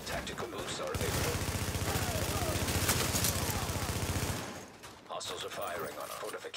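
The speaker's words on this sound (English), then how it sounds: "Hostiles are firing on a fortification." Rapid automatic gunfire in the video game Last Stand, a dense burst of rattling shots lasting several seconds, then a pause and more scattered firing.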